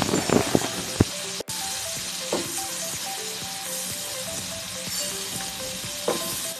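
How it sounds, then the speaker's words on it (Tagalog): Shrimp sautéing in butter with garlic in a pan, a soft continuous sizzle with occasional clicks and taps of a utensil stirring, close and fairly quiet. "Baligisahin natin yung hipon ng 4 to 5 minutes. Hanggang magsama yung butter sa hipon."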